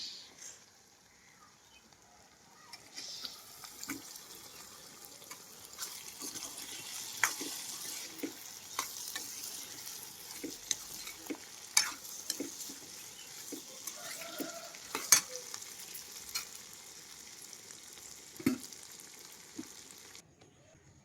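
Potatoes fry with green chillies and softened tomatoes in a pan, giving a faint, low sizzle with scattered clicks and stirring knocks, quiet and somewhat distant throughout.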